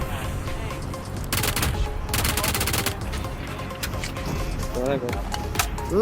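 Bursts of automatic gunfire in the PUBG battle game, rapid fire in several volleys under excited voices talking over the shooting.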